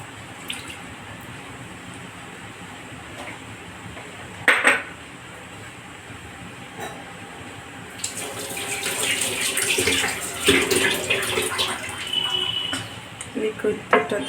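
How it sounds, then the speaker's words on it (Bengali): Liquid milk pours into a pan while making patishapta pitha filling, a soft splashing trickle that builds over several seconds amid clinks of kitchenware, with a voice talking. "পুরটা তৈরি করার আগে আমি এখানে লিকুইড দুধটা দিয়ে দেবো"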